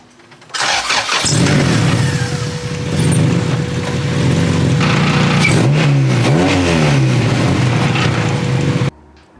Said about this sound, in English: Starting up the car.